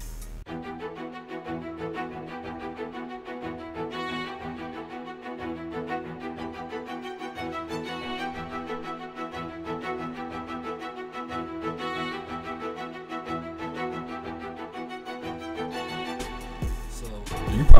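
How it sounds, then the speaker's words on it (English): Staccato strings from the Session Strings preset in Kontakt play a steady, busy pattern of short, clipped notes over a low bass pulse in a trap beat, with a sudden louder burst at the very end. "It's a staccato preset from Session Strings."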